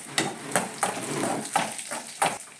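Dried red chilies fry with browned onions for an ash gourd curry, a soft crackling sizzle broken by a regular series of sharp scraping strokes of a spoon against the pan, close by.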